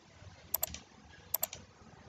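Typing on the on-screen keyboard of a Samsung Galaxy M20 phone running Android 10, with two quick pairs of faint, crisp tap clicks close by in a quiet room.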